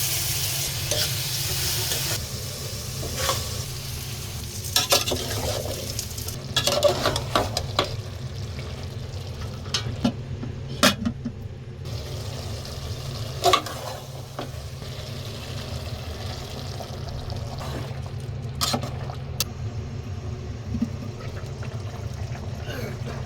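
Prawns and bottle gourd fry in a pan with a low steady sizzle, punctuated by repeated scraping and clinking stirs of a spoon against the metal, with a voice now and then.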